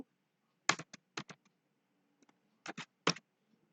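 A few short bursts of computer keyboard keystrokes while Python code is typed, crisp close clicks in quick clusters separated by quiet pauses.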